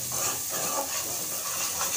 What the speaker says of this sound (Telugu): అల్లం పేస్ట్ పచ్చివాసన పోయే వరకు మనం ఫ్రై చేసుకోవాలి.